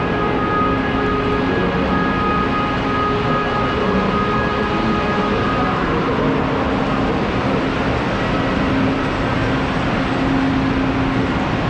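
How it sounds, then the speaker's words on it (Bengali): Haramain bullet train at a station platform in Medina, a loud, constant engine drone and hum with steady tonal whine, close and unbroken throughout, no voices. "মুহূর্তেই কানে ভেসে এলো ইঞ্জিনের শক্তিশালী শব্দ"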